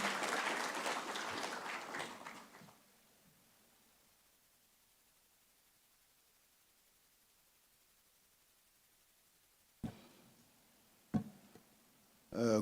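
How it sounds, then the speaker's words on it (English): Audience applause at an EdTech Mondays education event, a broad burst of clapping that fades out after about three seconds, followed by near silence and a few brief knocks. "A round of applause for him, please, as he joins us."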